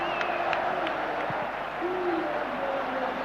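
A crowd of nearly 30,000 at a Craiova versus Dinamo football match in a stadium applauds a near-goal chance, a dense continuous roar of clapping and cheering from all around with scattered shouts.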